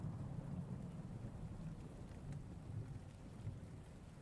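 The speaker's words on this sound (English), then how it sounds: "You'll have to speak up. I can't hear you over the rain." Steady rainfall in the indie game Rainswept, a soft, even hiss of rain that continues unbroken throughout, fairly faint and with no voices.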